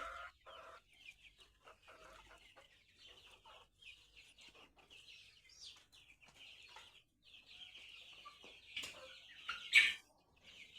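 Soft, continuous clucking from several chickens on a goat and poultry farm across the whole stretch, moderately distant, with a louder burst of squawks near the end.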